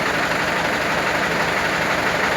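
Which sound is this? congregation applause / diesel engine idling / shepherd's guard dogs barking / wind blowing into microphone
diesel engine idling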